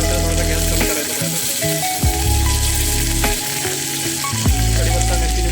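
Curry leaves and chillies sizzle in hot oil for tempering: a loud, close, continuous frying hiss under steady background music.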